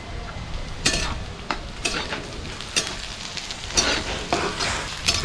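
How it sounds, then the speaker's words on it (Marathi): Browned onion and green chillies sizzle in a pan on a wood-fired stove while being stirred for a Konkani squid masala, with steady frying hiss and a spatula scraping roughly once a second. "1 मिनिटसाठी ढवळायचं."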